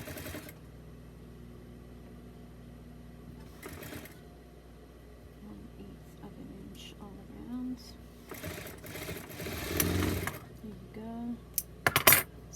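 A sewing machine stitches around the armhole of a small doll bodysuit in a few short runs separated by pauses, with light handling clicks and rustles near the end.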